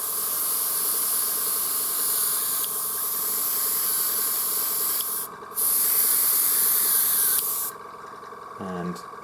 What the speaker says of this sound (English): So I'm just going to hit up the center of this with my trusty airbrush.